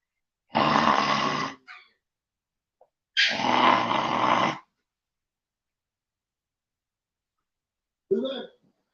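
Two long, loud bursts of a big dog's growling grunts, followed after a pause by a short, softer grunt, close to the listener with no talk over them.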